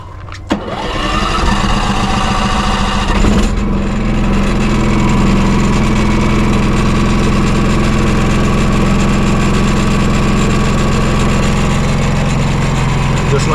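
An RV's onboard generator, at a dry campsite in a provincial park on Vancouver Island, cranks briefly and catches, then settles into a loud, steady, close-up engine drone that runs on without pause.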